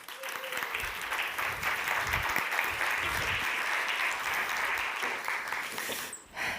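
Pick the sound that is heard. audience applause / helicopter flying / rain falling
audience applause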